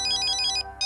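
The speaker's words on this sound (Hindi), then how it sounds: "जीजू का फोन है" Mobile phone ringtone chiming in a repeating bright electronic melody, loud and close, briefly pausing before starting again, with no voices.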